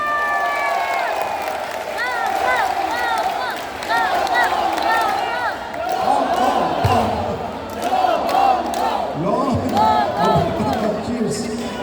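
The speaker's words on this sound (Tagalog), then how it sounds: "isang masigabong palakpakan na may kasama sigawan, Senador Bongbong!" A crowd at a barangay financial-assistance event in Addition Hills cheers and shouts for Senator Bong Go, a loud, sustained roar of voices and whoops mixed with clapping, running for the whole stretch.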